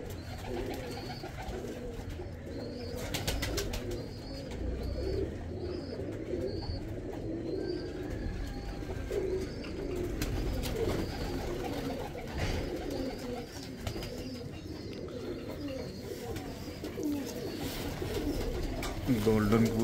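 A pair of golden pigeons coo in soft repeated phrases, fairly close, over a steady background hum with occasional faint rustling.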